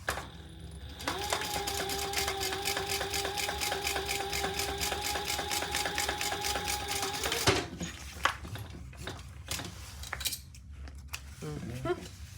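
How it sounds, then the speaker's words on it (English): Sewing machine topstitching a mini sling bag, a steady, even run of rapid stitches lasting about six seconds up close, then halting; handling noises follow, with faint talk in the background. "we're gonna top stitch. And just make sure it's nice and taut"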